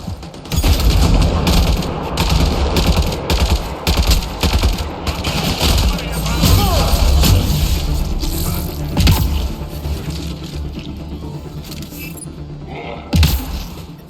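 Explosions and gunfire from a firefight in Mass Effect: Andromeda: a dense, loud barrage of rapid shots and blasts runs almost without a break for the whole stretch, with brief voices mixed in.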